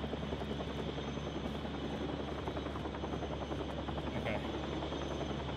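A helicopter from the game Still Wakes the Deep drones with a steady, loud rotor buzz that fills the whole stretch, while a voice speaks briefly over it.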